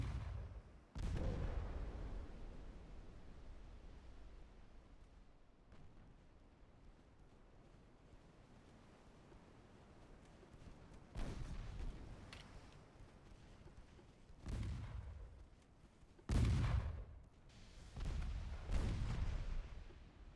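A 4-inch naval gun firing in Ultimate Admiral: Dreadnoughts: several heavy distant booms spaced irregularly several seconds apart, each with a rolling tail, over low wind and sea rumble.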